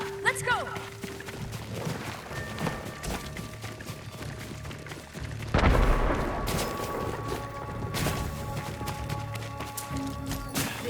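Fireworks burst in the Ghost of Tsushima game amid a battle with Mongols, a sharp boom standing out near the middle over a busy mix of clatter and effects, with voices talking at points.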